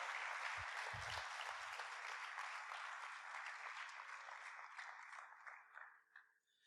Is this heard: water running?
no